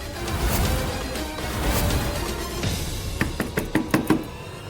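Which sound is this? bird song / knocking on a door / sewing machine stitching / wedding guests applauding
knocking on a door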